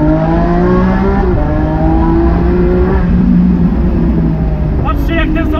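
A yellow Lamborghini Aventador S Roadster's V12 revs hard as it accelerates, a loud, continuous engine roar with rising pitch and shifts in tone, close to the listener.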